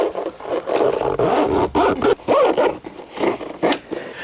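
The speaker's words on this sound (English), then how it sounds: "So we're going to go ahead and zipper this up." A zipper on a Jeep roof headliner pulled closed in several quick, rasping strokes, close and fairly loud, with short pauses between pulls.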